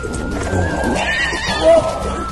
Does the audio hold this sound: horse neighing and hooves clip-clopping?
yes